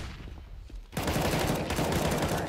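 Rapid gunfire in a Counter-Strike match, a quieter stretch that bursts into a sustained, dense barrage of shots, loud and continuous until the end.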